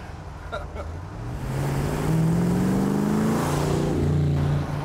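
A 1960s Mercury Park Lane engine rumbles low and steady, its pitch rising as it revs up and pulls away, with a faint voice briefly audible early on.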